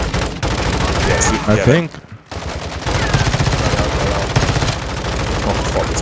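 Pistol gunfire in the video game Warzone DMZ rattles out as dense, loud bursts of shots over a busy game soundscape, with a brief lull midway and players talking over the action.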